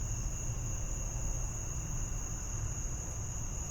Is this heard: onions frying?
no